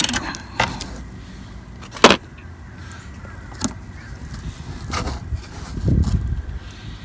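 A 10mm wrench turns a recessed door track nut on a 2016-2019 Dodge Grand Caravan sliding door, giving sharp metallic clicks and ratcheting clanks at irregular intervals, close by with no talk.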